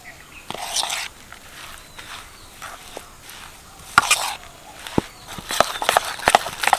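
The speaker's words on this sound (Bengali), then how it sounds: "এবার সব কিছু ভালো করে মিশিয়ে নেবো" A spoon works through a thick semolina pakora batter mixed with rice flour and no added water, making irregular wet swishes and sharp taps against the bowl, close by.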